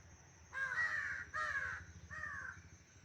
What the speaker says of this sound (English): Wild crow are standing to see.